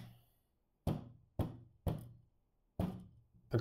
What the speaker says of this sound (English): this puck is just dry and ready to knock out.